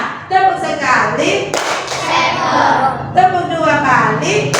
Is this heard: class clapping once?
yes